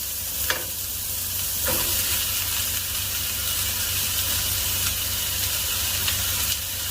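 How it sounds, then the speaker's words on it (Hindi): Chicken sautéing in a pan for a creamy Tuscan chicken dinner gives a steady, close sizzle and hiss, with a few brief stirring scrapes and clicks over the frying. "तो 2 से 3 मिनट तक इसको सौटे करना है।"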